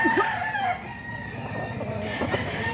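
A rooster crows nearby in a busy Filipino gamefowl yard, the call rising over a rumbling background, with a second crow starting near the end.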